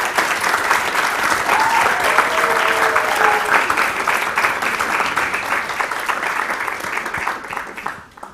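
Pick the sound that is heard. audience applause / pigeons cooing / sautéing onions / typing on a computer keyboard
audience applause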